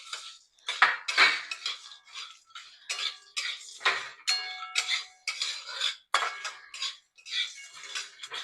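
Cinnamon, cloves, chillies, bay leaves and other whole spices roast in a little oil in a pan for Kolhapuri onion-garlic chutney, a steady run of close, crisp clinks and scrapes from stirring, with no talking.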